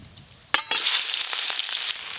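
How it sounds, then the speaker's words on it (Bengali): Chopped onion dropped into hot oil in a pan for a Bengali fish curry: a sudden splash and loud, steady sizzling that holds with faint crackles, close by and without speech. "প্রথমেই দেব পেঁয়াজ কুচি"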